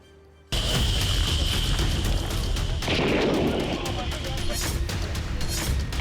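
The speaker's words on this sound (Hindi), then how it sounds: "लोगों ने पटाखे जलाकर खुशी दिखाई।" Firecrackers set off in celebration of a militant leader's death, a dense continuous crackle of rapid bursts that starts abruptly and stays loud throughout, mixed with a voice talking.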